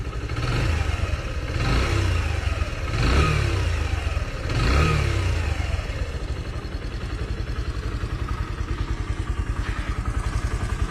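Suzuki GSX125 motorcycle with a 125 cc OHC single-cylinder engine, revved in several sharp blips while stationary, each rise and fall distinct, then settling into a steady, close, pulsing idle.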